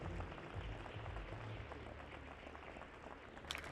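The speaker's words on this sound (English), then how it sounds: "Can you please put your hands together, a warm round of applause and congratulations to 8th place for Izzy Bailey of Great Britain" Audience applause for the 8th-place finisher in the women's 10m air pistol SH1 final at the WSPS European Championships in Hamar, a steady dense patter of clapping throughout with a faint sharp tap near the end.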